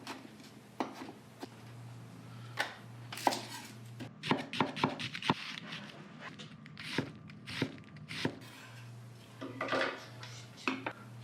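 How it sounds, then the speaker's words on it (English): A knife dices tomatoes on a cutting board in a garage kitchen, giving a run of crisp, uneven chopping taps, some quick bursts and some spaced, close by with a faint low hum underneath and no talk. "Just dicing up the tomatoes."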